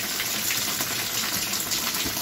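Shower water gushing steadily from two opened taps in a leaky washroom aboard a Russian Railways train, a continuous broadband hiss with no talk.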